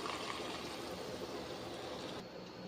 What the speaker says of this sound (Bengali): এখন আমি জল দেবো দিচ্ছি তরকারিতে